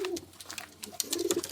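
Pigeons in a loft cooing, soft throaty coos repeating in short bursts close by, with faint chirps of a young bird mixed in and no talking.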